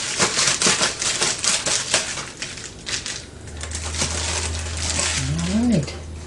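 A padded Amazon envelope package is handled and torn open up close, producing a run of crinkly rips and rustles, then quieter handling, with a brief low hum and a short vocal sound near the end.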